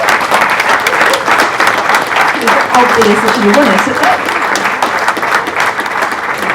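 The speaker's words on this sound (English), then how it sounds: "so a big round of applause." An audience at a film festival awards Q&A applauds with dense, sustained clapping under a speaking voice, steady and loud throughout.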